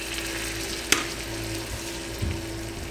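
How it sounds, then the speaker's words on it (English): Flour roux cooking in a pan for green beans, a steady soft sizzle with a sharp clink and a brief stir near the end. "so now I got my roux going, and I'm just going to eyeball it and just add a bit of flour in there"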